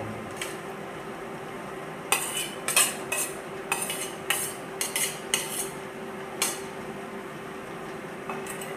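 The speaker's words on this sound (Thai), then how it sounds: "เราก็จะเติมมะพร้าวอ่อนลงไป" A utensil stirs young coconut into a hot mixture of milk, non-dairy creamer and sugar heated to 80°C for a coconut milk pudding, giving repeated light clinks against the pot over a steady background hum.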